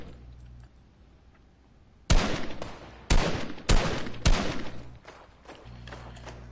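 Video game gunfire sounds out as four loud, sharp bursts of rapid shots, each a brief volley with a decaying tail, over a quiet low background hum.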